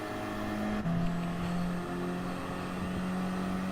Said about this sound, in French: à peine que j'appuie sur l'accélérateur, la bagnole elle démarre